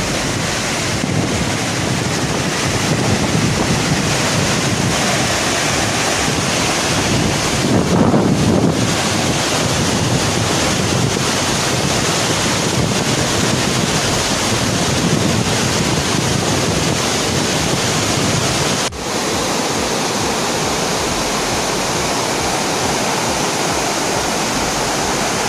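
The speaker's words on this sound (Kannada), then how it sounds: "ಸುಮಾರು 80 ಅಡಿ ಎತ್ತರದಿಂದ ಹಾಲ್ನೊರೆಯಂತೆ ನೀರು ಬೀಳ್ತಿದ್ದು ನೋಡಲು ಆಕರ್ಷಕವಾಗಿದೆ" Hebbe waterfall in heavy rain, water dropping about 80 feet, roars as a loud continuous broadband rush with wind buffeting the microphone and no voices.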